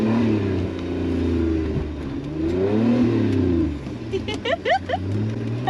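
Off-road truck engine running steadily at about 1400 RPM while driving through rough terrain, a loud continuous low drone that rises and falls slightly, with a person speaking over it near the end.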